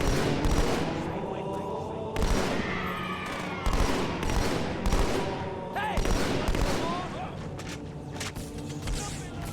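Halo Battle Rifle fire in a video game: repeated loud bursts of rapid shots in a dense, continuous stream of gunfire, explosions and game noise, with talk running over it.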